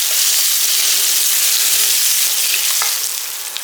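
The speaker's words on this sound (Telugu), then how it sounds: "అందులో కొద్దిగా ఇంగువ, రెడ్ చిల్లీ అండి. రెడ్ చిల్లీ వచ్చి ఒక 2. కొద్దిగా ఫ్రై అవ్వనిచ్చాం." Dried red chillies and asafoetida frying in hot oil, a loud, continuous close sizzle with a few faint pops, easing slightly toward the end.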